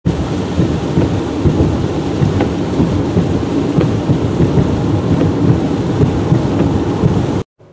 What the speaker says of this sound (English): waiting for it to stop raining